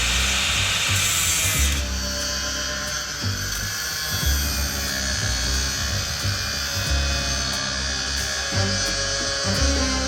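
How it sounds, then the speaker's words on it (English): An angle grinder runs continuously at close range, cutting and grinding away a window track caked with about 20 years of paint, a loud, harsh whine with rough scraping under it throughout. "an angle grinder replaces the screwdriver."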